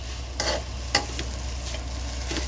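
Breakfast food being crushed and stirred in a frying pan, a few scraping strokes and one sharper knock over a continuous low sizzle.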